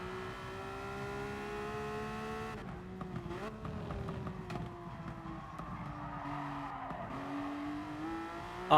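A race car in Gran Turismo Sport slides through corners in a drift, its engine holding a steady whining tone that shifts pitch with each throttle change, with tyre noise beneath.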